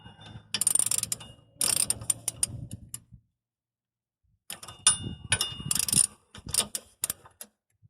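A hand ratchet clicks in quick bursts while tightening the rear wheel hub bolts on a 2009 Toyota Yaris, several close, crisp runs of pawl clicks separated by a silent pause.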